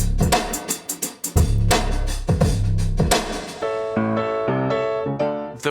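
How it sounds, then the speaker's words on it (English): A produced drum beat with beefed-up kicks and snares thumps out in a punchy, regular pattern, then melodic layered elements enter partway through, loud and alone. "beef up the kicks and the snares"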